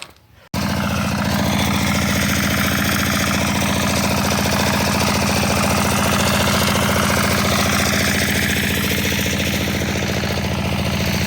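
A Zubr walk-behind tractor engine starts abruptly after a short quiet moment and then runs steadily, a loud, close, continuous throbbing drone with a rapid mechanical knock and no speech.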